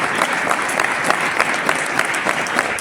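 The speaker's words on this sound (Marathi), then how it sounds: "एकदा जोरदार टाळ्या त्याच्या कष्टासाठी" An audience bursts into loud, sustained applause, dense clapping rolling on steadily from start to finish with faint crowd noise beneath.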